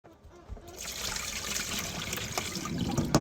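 Water from an ice bath holding beef Asian meatballs is poured out, a steady splashing gush that starts about half a second in and runs fairly loud and close until a sharp splash at the end, with no voice.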